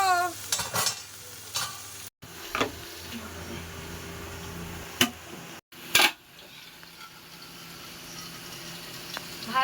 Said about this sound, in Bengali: ঢেঁড়স ভাজা ওদিকে ভাজা হচ্ছে